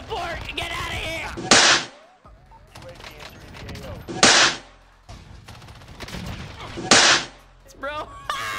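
Gunfire from an FFAR rifle in the Warzone video game rings out in three loud, sharp bursts spaced a few seconds apart, with a voice talking between them.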